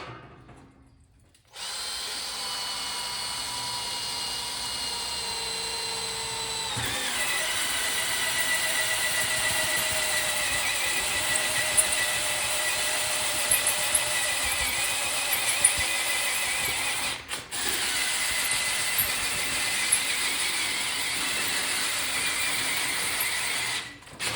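A power drill bores through 16 gauge steel on an arcade control panel, a steady high whine that starts after a short silence, shifts pitch as the bit bites in, and runs loud and continuous with brief dips.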